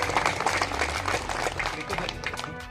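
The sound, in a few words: audience clapping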